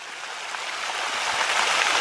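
A waterfall pours down in a steady, loud, broadband rush that builds slightly and is close and continuous throughout.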